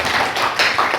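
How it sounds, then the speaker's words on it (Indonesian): A short burst of classroom clapping, a few loud, close, slightly uneven claps in about a second, with no voices. "Dua-duanya benar. Tepuk tangan."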